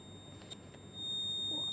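A real-time-clock alarm buzzer on an FPGA development board gives a thin, steady electronic tone, faint at first and then sounding continuously and louder for the last second, alone without talk.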